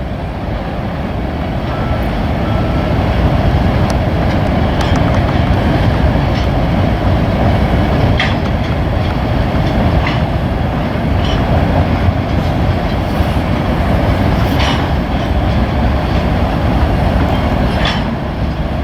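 A freight train rumbles steadily across a bridge for a long stretch, loud and close, with a continuous roar and faint rhythmic clacking of wheels over the track.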